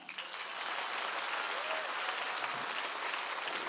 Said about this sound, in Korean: 박수 소리가 세지가 않아